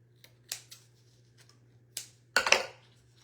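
Scissors snipping paper off a wire mouse form for paper mache, several sharp close cuts spaced irregularly, ending in a quick cluster of snips over a faint steady hum.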